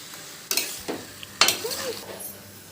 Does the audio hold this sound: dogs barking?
no